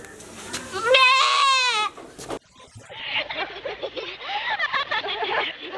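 A goat bleats loudly in a quavering, wavering call near the start, then speech continues over the farmyard scene.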